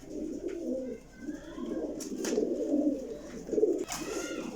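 A Sialkoti jamsira pigeon gives repeated close, soft, throaty coos in rhythmic bursts, alone without talk.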